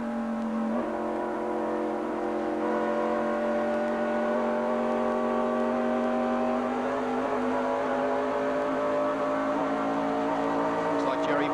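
NASCAR stock cars race around the track in a dense pack, engines droning and rising steadily and loudly without a break as a commentator talks over the action.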